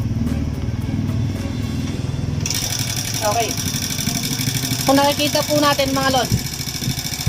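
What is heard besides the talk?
motorcycle engine idling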